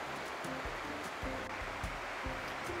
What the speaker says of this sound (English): the sound of the river made me feel so calm